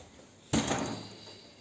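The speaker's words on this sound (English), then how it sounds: "you have these sliding doors" A sliding door in a rented flat in Valencia opens with one sudden rush of rolling friction that fades out over about a second, quiet and close in an otherwise still room.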